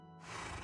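A horse in a Minecraft game lets out a short, loud whinny that swells quickly and holds steady to the end, heard alone without talk.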